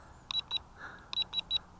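A Xinxun X50 quadcopter's transmitter gives short electronic beeps to signal switching to expert mode, two quick beeps followed by a brief pause and then three more, sharp and thin over faint background hiss.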